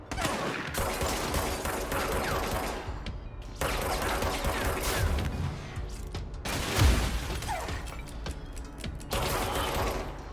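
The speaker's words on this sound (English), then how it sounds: "more gunshots" Dense, continuous bursts of rapid gunfire and explosions from a game, loud and chaotic, pausing briefly a couple of times before resuming.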